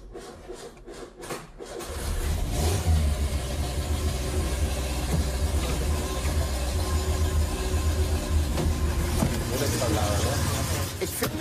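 A 1980s French car's engine is started: a few sharp taps come first, then the engine catches and settles into a loud, steady running drone with a rough low rumble that persists.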